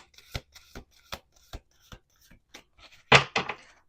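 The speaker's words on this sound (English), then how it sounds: "Okay, 2 more shuffles." Crisp riffling bursts of a card deck being shuffled, repeated in a steady rhythm, ending with a louder snap and bridge; close and clear.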